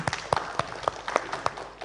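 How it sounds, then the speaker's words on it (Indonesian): Scattered, fairly rhythmic hand claps from an audience at a talk show panel on regional elections, a handful of sharp claps spaced evenly rather than a dense roar, moderately loud with a faint background murmur. "Kita beri tepuk tangan dulu untuk semua narasumber."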